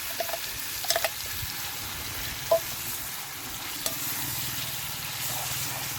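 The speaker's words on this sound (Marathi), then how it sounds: "आता मी तेलामध्ये आता आपला मसाला पूर्ण परतून घेतो मस्त" Spice masala sautéing in hot oil for a vegetable curry, a soft steady sizzle with occasional stirring scrapes and clinks, fairly quiet and close.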